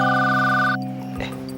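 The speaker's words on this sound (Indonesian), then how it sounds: "Telepon brother. Telepon." A telephone ringtone trills loudly and steadily, then cuts off partway, leaving a low, sustained background hum behind it.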